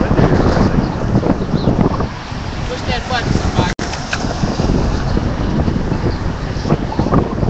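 Wind gusts outdoors on a cold day, buffeting the microphone in loud, rumbling bursts with a brief dropout midway, while people talk faintly underneath.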